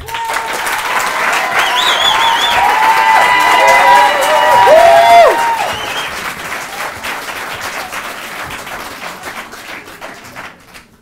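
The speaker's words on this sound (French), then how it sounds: "Je vous demande d'applaudir" Audience applause and cheering at the Kandidator stand-up show greet a new comedian, loud and sustained with whoops and music over it, then slowly thinning out as a voice begins.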